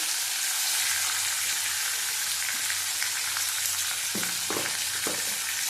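Onion and whole garam masala frying in a pan, a steady close sizzle with crackle throughout and a few louder scraping stirs near the end.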